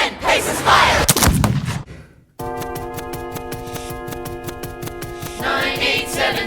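A single loud gunshot cracks out in a staged musical duel, followed by a sudden cut to silence and then a sustained, shimmering orchestral chord that swells toward the end.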